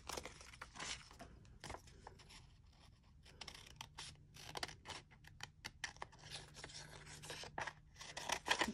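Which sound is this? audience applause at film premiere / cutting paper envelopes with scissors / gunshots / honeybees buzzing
cutting paper envelopes with scissors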